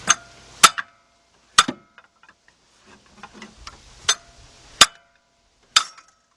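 A small hammer taps sharply on a wrench to loosen water pump bolts on a 2006 Chevy Express van, with about six distinct metallic strikes at uneven intervals, close and loud, plus faint clinks between.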